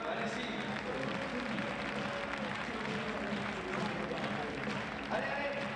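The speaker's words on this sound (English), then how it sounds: "Je vous demande d'applaudir très très fort les bénévoles du cercle d'escrime orléanais sur le podium." An audience at a fencing World Cup event in Orléans applauds volunteers from the local fencing club on the podium, steady distant clapping under an amplified announcer's voice in a large hall.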